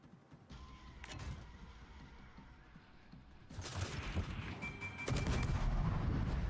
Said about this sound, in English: I'm gonna fire off one torpedo rack